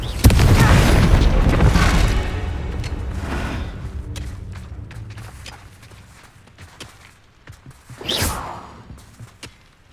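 A Confringo blasting-curse explosion in the Hogwarts Legacy video game: a loud, close booming blast that rumbles and slowly fades over several seconds, followed by a short whooshing burst near the end.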